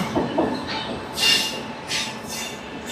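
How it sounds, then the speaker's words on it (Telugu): A goods train rolls into a station platform at a distance, with a low rumble and a few bright metallic squeals from the wheels, over a steady hum of background noise. "ఇప్పుడే 1వ నెంబర్ ప్లాట్ఫామ్లోకి ఒక గూడ్స్ ట్రైన్ వస్తుంది"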